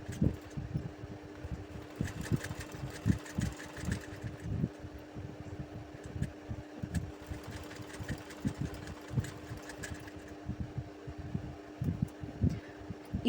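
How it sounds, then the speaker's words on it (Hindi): An electric sewing machine stitches a garment sleeve along its fitting line in close, rapid bursts of needle chatter separated by short pauses, with a steady motor hum underneath and no speech. "पहले हम इस तरह से जो फिटिंग का निशान है इस पर सिलाई कर लेंगे आगे से लेके ऊपर तक बाजू पर"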